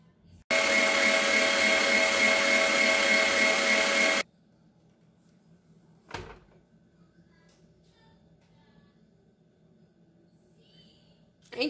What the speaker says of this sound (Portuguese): Agora eu vou bater mais um pouquinho só para terminar de misturar e pronto.